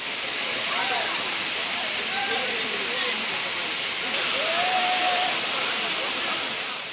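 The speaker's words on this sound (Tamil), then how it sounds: "மலை மீதிருந்து வெள்ளியை உருக்கி விட்டார் போன்று அருவி போல தண்ணீர் ஆர்ப்பரித்து கொட்டுகிறது" A waterfall pouring down from a hill, a steady broad rushing hiss of cascading water heard continuously, with a voice talking faintly underneath.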